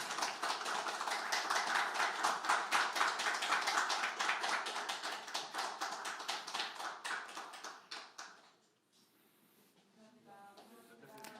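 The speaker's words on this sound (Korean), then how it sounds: "다시 한번 큰 박수 부탁드립니다." Audience applause at a 2022 Democratic Party event in Korea, a dense, steady clapping that fades out after about eight seconds, followed by faint talk.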